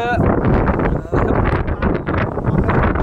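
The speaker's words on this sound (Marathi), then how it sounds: "वाऱ्याचा प्रवाह इतका जबरदस्त आहे ना इथं" Strong wind blows hard at a reverse waterfall in dense fog, roaring and buffeting the microphone in a loud, continuous rush.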